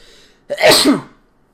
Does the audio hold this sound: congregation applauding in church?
no